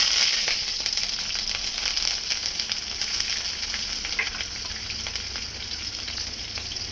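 Panch phoron spices frying in hot oil, a faint steady crackle and sizzle with scattered small pops, close by and uninterrupted by talk.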